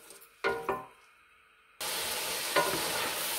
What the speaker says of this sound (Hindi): 2 से 3 मिनट हो गए हैं इसको भूनते हुए